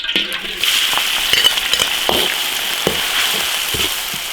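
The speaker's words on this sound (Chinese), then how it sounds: "慢慢炒，把辣味儿炒出来" Chili peppers stir-fry in hot oil in a wok for a Sichuan mala hotpot base, giving a steady close sizzle with scattered scrapes and clinks of the spatula against the metal.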